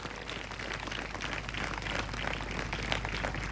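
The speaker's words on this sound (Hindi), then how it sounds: "ताली बजा के प्रभु को धन्यवाद आज रात को दीजिए।" A Hindi-speaking church congregation at an evening prayer meeting in Udaipur claps in thanks to the Lord, a dense, steady wash of applause from many hands lasting several seconds.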